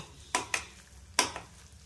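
Bombil (Bombay duck) bhurji with kokum being stirred in a pan: three or four quick, sharp scraping strokes of a spoon against the pan over a faint, low sizzle, close by.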